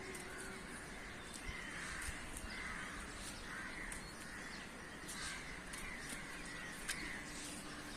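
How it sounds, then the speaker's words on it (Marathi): Many birds call at once, with repeated crow caws standing out over a steady background of chirps and light rain. "किती पक्ष्यांचा आवाज येतोय ना"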